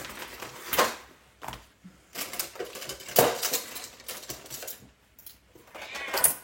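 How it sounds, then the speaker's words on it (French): A craft knife slices along pencil lines on paper for a scrapbook album page, giving several short, dry scraping strokes at uneven intervals, close and fairly quiet, with no talking. "je vais venir les couper au cutter"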